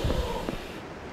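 A giant dog creature in the Silent Hill Origins video game gives a short, close snort with breathy bursts over a low game ambience.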